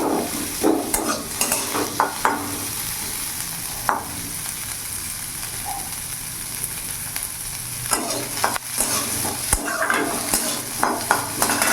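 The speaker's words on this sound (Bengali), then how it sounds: "এরই মধ্যে আমি কেটে রাখা বড় বড় করে দুটো পেঁয়াজ দিয়ে দিয়েছি" Onions sizzle steadily in hot oil with spices, with occasional scrapes and stirs of a spoon against the pan, no voices present.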